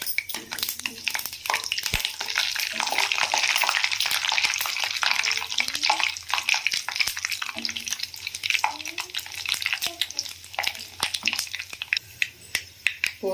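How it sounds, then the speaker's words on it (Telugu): Tempering spices, fenugreek seeds then chana dal, cumin and mustard seeds, frying in hot oil for an Andhra-style bottle gourd dish: dense crackling and popping throughout, close and fairly loud, with brief stirring sounds. "మెంతులు కొంచెం వేగిన తర్వాత అందులోకి మనం పోపుని యాడ్ చేసుకుందాము. పచ్చెనగపప్పు, జీలకర్ర, ఆవాలు."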